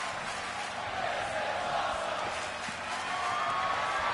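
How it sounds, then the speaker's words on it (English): A wrestling arena crowd in the WWE 2K25 game keeps up a broad, sustained roar of chanting and cheering, steady and moderately loud, with no clear break throughout. "The crowd chanting, "This is awesome.""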